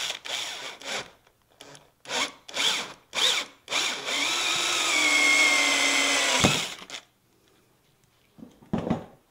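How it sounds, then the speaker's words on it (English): A power drill bores a 3/4 inch hole through a 2-inch plastic rain barrel cap, starting with short stuttering bursts, then running in one sustained whining stretch before stopping, followed by a few brief trigger pulls, close and loud. "So we're gonna drill through it 3/4 inch."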